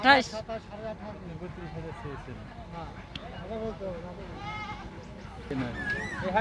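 Goats bleat repeatedly amid a busy outdoor goat market before Eid al-Adha, with people talking nearby and a louder bleat or call near the end.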